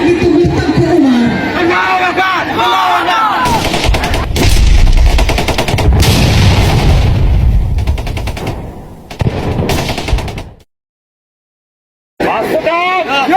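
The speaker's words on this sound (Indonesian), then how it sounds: "mar sampai di sebuah pantai Suak Ujung Kala, pasukan Belanda yang sudah senjata pun menembaknya dalam perang terbuka." Staged rifle and machine-gun fire crackles in loud, rapid bursts during a Teuku Umar battle reenactment at an Indonesian Independence Day (HUT RI 78) celebration in Gampong Lhok Rukam, Tapaktuan, South Aceh. Crowd noise and voices mix in, broken by a short silence.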